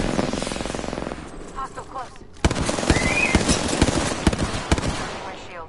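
Rapid automatic gunfire in a PS4 shooter, loud and close, with sharp repeated shots in bursts and a short pause before firing resumes. A voice speaks briefly over it.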